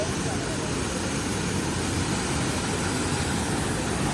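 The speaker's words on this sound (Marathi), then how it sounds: "हा धबधा बघा या साईडला की जोरात पडतोय" Waterfall near a dam pouring down forcefully, making a dense, unbroken roar close by, with a voice talking over it.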